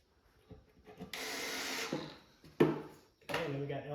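Pocket screws are driven into a wooden farmhouse shoe bench in two short whirring power-driver bursts, close up, with a few knocks and handling sounds between them.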